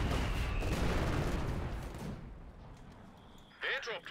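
Mortar fire in Company of Heroes 2, a dense rumbling barrage of thuds and blasts that fills the first half, then fades into quieter background battle noise with a short burst near the end.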